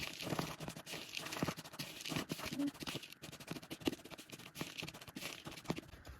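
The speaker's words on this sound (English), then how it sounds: "So I'm gonna stir this up until it's all evenly coated." A spoon scrapes and stirs an oat granola mixture in a bowl until it is evenly coated: close, irregular crunchy scratches and pats in a quick, uneven rhythm.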